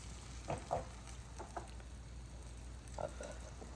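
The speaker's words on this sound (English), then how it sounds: "I add the crushed tomatoes" Crushed peeled tomatoes frying with onion in a pan give a soft, faint sizzle, with a few light clicks and splutters popping up now and then.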